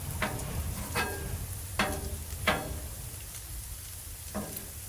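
Bacon and egg frying together fast on a Blackstone griddle: a soft, steady sizzle broken by several sharp scrapes of a spatula, with no talking.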